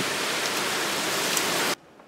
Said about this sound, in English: Look at that rain just blowing sideways like that.